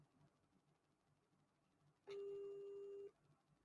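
A single steady telephone ring tone sounds for about a second on a call, clear against a quiet background.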